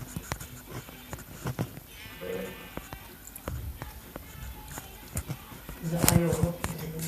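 Minecraft sheep bleat a few times amid scattered clicks and soft game sounds, with one louder bleat near the end.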